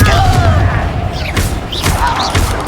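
A Confringo blasting spell explodes in Hogwarts Legacy during a dragon egg quest fight, heavy booming blasts and rumbling thuds under continuous battle noise, with a voice calling out spells.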